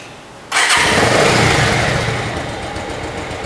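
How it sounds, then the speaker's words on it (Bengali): A Bajaj Avenger 160 ABS motorcycle engine starts up abruptly after near silence, catching at once into a loud, steady close idle that eases slightly in level. "বাইকটা কিন্তু স্টার্ট করা হয়েছে বন্ধুরা,"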